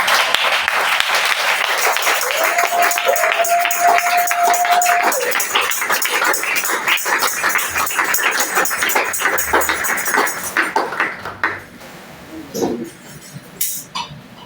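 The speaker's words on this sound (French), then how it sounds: "j'aimerais que tu puisses applaudir pour la grâce que Dieu t'accorde" A church congregation applauds loudly for several seconds, a dense crowd clapping that thins out and fades toward the end, with a voice briefly audible under it.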